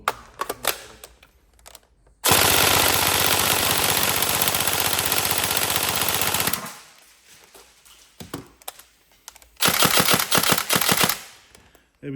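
A Tokyo Marui SCAR-H NGRS airsoft rifle fires rapid full-auto bursts, a long burst of several seconds and a shorter one later, with sharp single clicks between, loud and close with no speech.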